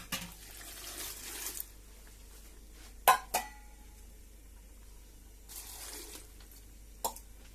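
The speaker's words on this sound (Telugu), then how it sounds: "వాటర్ మట్టికి ముక్కలు మురిగేలాగా వేసుకోవాలి ఫ్రెండ్స్" Water poured into a cooker pot holding pieces of palm makes short splashing rushes at the start and near the end, broken by a few sharp metallic clanks of the pot, heard close in a quiet kitchen.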